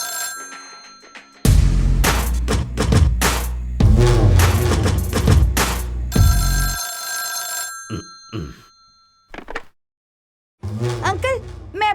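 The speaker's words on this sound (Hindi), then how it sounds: "डैडी फोन बज रहा है डैडी।" A telephone rings loudly in repeated bursts, with stretches of silence and a voice speaking in between.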